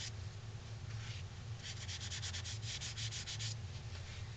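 Johnson's paste wax rubbed onto the side of a carved wooden ventriloquist dummy's mouth, heard as soft, quick back-and-forth rubbing strokes in a faint rhythmic series over a steady low hum, with no talk.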